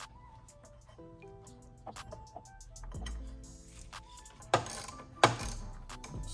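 Hose clamp being tightened on the chargepipe of a BMW F34 340i GT with the B58 engine, heard as scattered small metallic clicks and ratcheting taps, with a couple of louder clanks toward the end, close up and fairly quiet.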